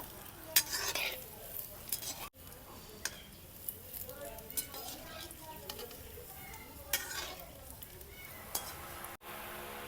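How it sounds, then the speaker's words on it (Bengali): Ripe banana malpua frying gently in a pan on low heat, a soft continuous sizzle with occasional stirring and utensil scrapes, faint and close with no talking. "লাল লাল করে ভেজে নিলাম"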